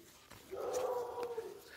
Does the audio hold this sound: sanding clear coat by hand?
no